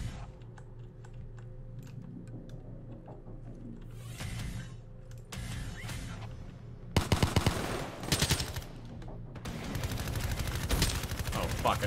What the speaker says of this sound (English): Fuck, I almost shot my teammate.